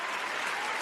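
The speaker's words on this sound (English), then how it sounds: "Clap it up for the agreement, man." A brief, steady burst of group applause for the Delta workers' union agreement, dense clapping held at an even level throughout.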